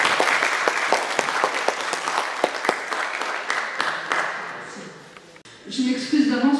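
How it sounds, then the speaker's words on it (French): Conference audience applauds to welcome a guest speaker, dense clapping for about five seconds that thins and stops, then a voice begins speaking near the end. "je vous invite à accueillir notre invitée sous vos applaudissements"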